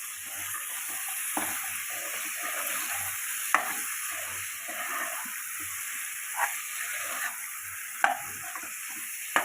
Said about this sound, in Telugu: ముందుగా మనం మ్యారినేట్ చేసి పెట్టుకున్న చికెన్ని ఇందులో యాడ్ చేసుకోవాలి